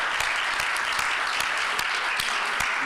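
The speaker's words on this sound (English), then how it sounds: "a big welcome and round of applause for Mr." A conference audience gives a round of applause as a speaker is welcomed to the podium, steady crowd clapping with a few sharper individual claps standing out, continuing throughout.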